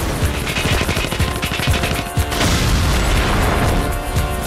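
Rapid gunfire in a TV shootout, a loud dense stream of overlapping shots and heavy booms, relentless and close throughout.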